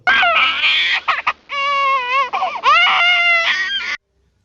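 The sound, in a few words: baby crying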